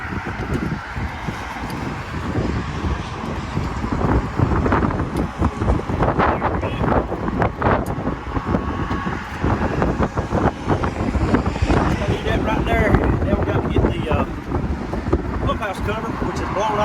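Strong, cold wind gusts buffet the microphone outdoors near a shop and an old well pump, a loud, rough roar that rises and falls in waves throughout with no break.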